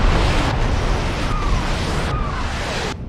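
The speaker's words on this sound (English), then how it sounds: "that sure looks like more artillery to me" Artillery strikes in the BattleTech video game land as a series of heavy rumbling explosions, dense and loud, with brief whistling streaks between blasts and no voices.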